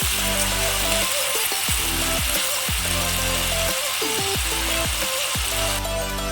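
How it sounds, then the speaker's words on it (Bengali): Potatoes stir-fried in oil with a little salt give a continuous sizzle over loud, steady background music, with occasional scraping from stirring. "আলুগুলো এইভাবে কষে নিয়েছি"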